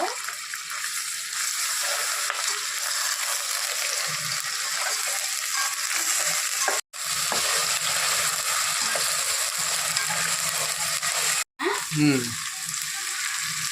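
Onions with ginger garlic paste sizzle steadily in a pan, a loud, continuous frying hiss with occasional stirring scrapes and a couple of brief gaps, with no talk over it.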